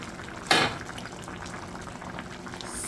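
Pig tail pork stew bubbles in a pot with a soft, continuous simmer, broken by one short clatter near the start.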